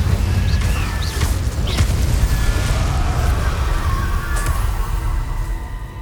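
Incendio fire spells cast in Hogwarts Legacy erupt as dense, rumbling booming bursts of flame, loud and continuous for several seconds with crackling pops layered on top.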